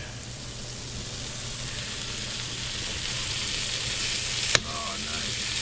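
Shrimp scampi sizzling in a pan with garlic butter, wine and lemon juice, a steady close frying hiss that swells slightly toward the end, broken by one sharp clink of a utensil.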